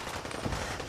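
Dense, rapid gunfire from the video game Fallout 4 crackles throughout, a continuous burst of overlapping shots with no voices.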